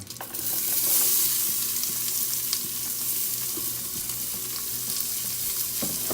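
Chopped onion hits a hot pan for pork chile verde with a loud burst of sizzling that settles into a steady crackling fry, with a few stirring clinks and no voices.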